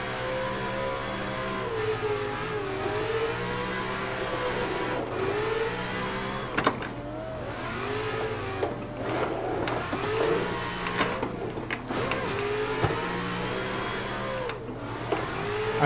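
A BMW E36 drifting in Assetto Corsa holds a steady, loud engine drone throughout, its revs swinging up and down as the throttle is held through transitions, with brief tire and impact noises scattered across the run.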